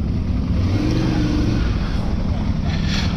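A Ducati 696 motorcycle's engine drones steadily and loud, with a dense low rumble and wind noise as the bike rides on the road at the Isle of Man TT.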